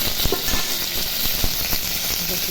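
Potatoes and pointed gourd fry in hot oil with salt, a continuous close hissing sizzle with scattered soft pops and stirring taps throughout.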